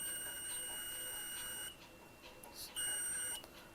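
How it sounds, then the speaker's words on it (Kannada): A steady high-pitched electronic beep tone from a continuity tester checking a 30-metre Speakon speaker cable, cutting out briefly then sounding again, with light handling clicks. "Beep sound ಬರ್ತಿದೆಯಲ್ಲ."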